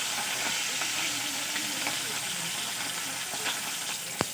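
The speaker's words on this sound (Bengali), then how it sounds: "এবার মাছগুলোকে উল্টে পাল্টে ভালো করে ভেজে নেব।" Shing catfish frying in hot mustard oil, a steady dense sizzle and crackle throughout with faint stirring clatter and one sharp tap near the end.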